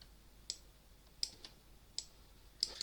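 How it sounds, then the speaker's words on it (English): Keyboard shortcuts pressed on a computer keyboard, about six light, sharp key clicks spaced irregularly, quiet and close, no talk. "you can see I'm just using the keyboard shortcuts here"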